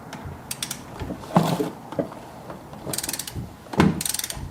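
A hand ratchet works on the driveshaft bolts of a Dodge Charger, giving quick bursts of close, metallic clicking in several runs with soft clunks and creaks between them.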